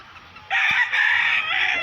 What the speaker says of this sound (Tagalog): simpleng manukan lang